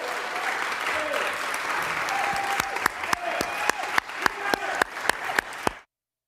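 A roomful of people applauds after the Georgia electoral college vote for Joseph R. Biden is announced, the dense clapping thinning into a few sharp, separate claps before stopping abruptly.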